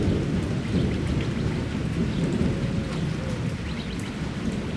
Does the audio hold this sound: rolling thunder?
yes